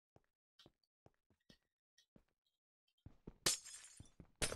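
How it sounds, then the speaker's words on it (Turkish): Scattered soft knocks and taps in a Minecraft map, followed by a loud crunchy burst of glass breaking and shattering, close and bright, with a second smash at the end. "Bu modda cam kırılabiliyormuş demek ki."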